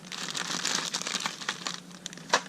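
Plastic packaging crinkles and crackles continuously while fishing lures sold in 6-packs are unpacked, dense bursts of rustling at close range with a few sharper crackles near the end.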